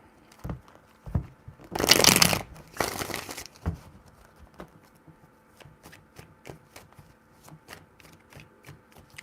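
A tarot deck is shuffled by hand: two dense bursts of riffling near the start, then a run of sharp card taps and slaps, close and clear with no talking.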